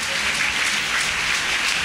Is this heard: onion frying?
no